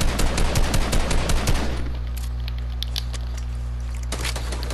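Video game gunfire rattles in a rapid burst of close, loud shots for about two seconds, then stops. A low steady hum remains, and a few more scattered shots come near the end.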